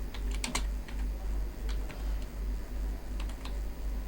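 Code is typed on a computer keyboard in a rapid, even patter of close key clicks, with a few sharper strikes standing out. A low background hum runs underneath and no one speaks.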